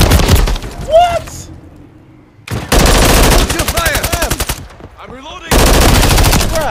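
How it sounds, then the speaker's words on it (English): Bursts of automatic machine-gun fire in Modern Warfare 3 multiplayer, loud and close, broken by short pauses, with game sound effects and a player's voice talking over the shooting. "was I shooting him for a long time and like they just wouldn't go down"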